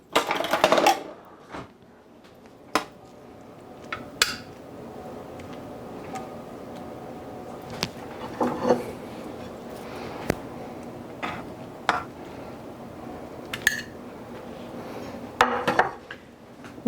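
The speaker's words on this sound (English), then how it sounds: "Let me get some tongs here." Metal tongs clink and clatter against a slow cooker pot holding ranch chicken, scattered sharp taps spread unevenly across a quiet kitchen.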